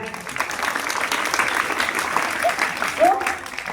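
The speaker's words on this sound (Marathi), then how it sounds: "त्यामुळे स्वतःसाठी एकदा टाळ्या वाजवा जोरदार" Schoolchildren at a career guidance session in a school hall applaud loudly and steadily, a dense roar of many small hands clapping together for nearly four seconds, with a few faint voices mixed in.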